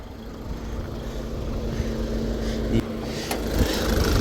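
A Seat Altea XL engine idling evenly with a low, steady hum, close by, with a few brief clicks and faint background noise.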